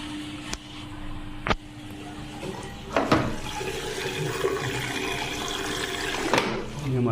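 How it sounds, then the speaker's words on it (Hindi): Water rushes in to fill an LG direct drive front load washing machine, a steady flowing hiss with a few sharp clicks and knocks, while someone talks over it. "हमने चेक किया, ये हमारा पानी आना स्टार्ट हो चुका है।"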